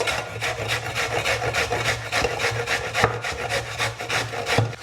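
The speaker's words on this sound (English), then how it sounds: "I take a little bowl and I grate on the biggest grater section, just like that." Zucchini, peel on, is grated on the coarsest side of a box grater into a small bowl, making steady, rhythmic rasping strokes close up, one after another without pause.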